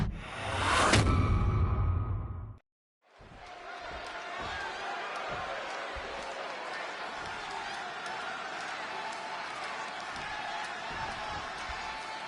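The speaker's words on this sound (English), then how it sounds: "just listen to this crowd here in Chicago" Virtual arena crowd at a Chicago wrestling show in the WWE 2K26 video game, CM Punk facing Eddie Guerrero: a sustained, fairly loud roar of many voices that stays steady after a brief loud burst and a short dropout at the start.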